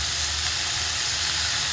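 Sprouted moth beans hit hot oil in a pan, producing a steady, dense sizzle and hiss, close and continuous without pause or talk.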